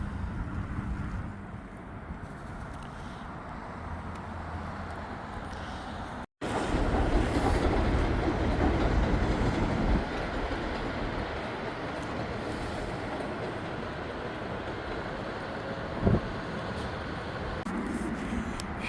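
Long Island Rail Road commuter train running on the track between Valley Stream and Penn Station, a loud, steady rumble of wheels and cars that carries on for the whole stretch, with a brief dropout partway through and a faint squeal near the end.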